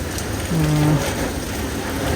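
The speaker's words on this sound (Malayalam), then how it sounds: "പിന്നെ ഇപ്പോഴാണ് മഴ പെയ്തത്" Continuous steady hiss of rain falling, with a brief low tone near the start and no voices.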